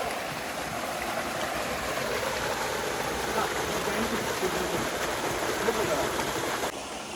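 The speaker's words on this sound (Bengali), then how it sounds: "এটা হচ্ছে ছোট পাগলির ছোট ঝর্ণা" Small waterfall called Choto Pagli in a hill stream, its water rushing in a steady, close, unbroken broadband wash that holds level for the whole stretch.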